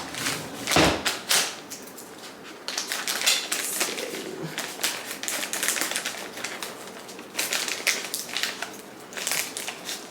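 Scissors struggling to cut open a package in a home kitchen, giving a run of sharp, close snipping and crunching clicks in irregular bursts, with short pauses between them and no talking.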